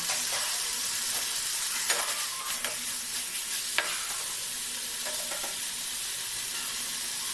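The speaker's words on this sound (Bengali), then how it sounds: "হালকা কষানো হয়ে গেলে মেটের টুকরোগুলোকে দিয়ে দিচ্ছি" Pieces of chicken liver fry in a pan, making a steady loud hissing sizzle close up, broken by scattered small pops and spatters, with no voices.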